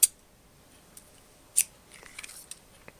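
A few crisp scissor snips cut through a rubber inner tube, sharp isolated clicks with short pauses between them, close and otherwise quiet.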